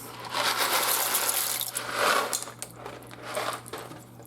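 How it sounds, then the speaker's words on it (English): Dry elbow noodles are poured from a box into a pot of homemade chili, making a rattling, pattering cascade that swells louder midway and then tapers off. "What I'm going to do next is add about half of this box of elbow noodles. I'm just going to pour them in."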